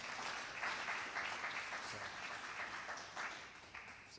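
An audience at a sustainability speaker series gives steady applause, a continuous bed of clapping from a moderately sized crowd that holds for several seconds with slight swells.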